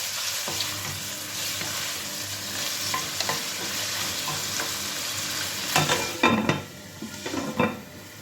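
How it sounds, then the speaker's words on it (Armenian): Food sizzles steadily in a pan while a utensil stirs it, with soft scraping, then a louder burst of clattering pan and cutlery knocks near the end. "Թողնենք մի քիչ տապակվի։ Մի հատ խառնեմ։"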